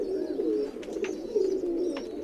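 Breeder pigeons in a loft give a continuous low, rolling coo, close and fairly loud, with a few faint sharper chirps overhead and no talking.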